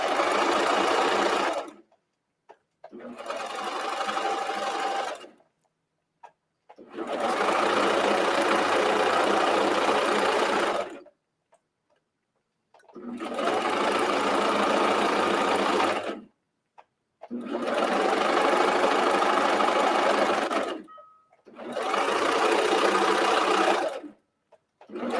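Sewing machine stitching a side seam on a knit top, running in six long bursts of several seconds each separated by short silent pauses, steady, close and clear.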